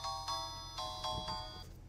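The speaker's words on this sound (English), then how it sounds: "Sorry, that's my phone." A phone ringtone chimes in a series of bright repeated notes, loud and close, with no one talking.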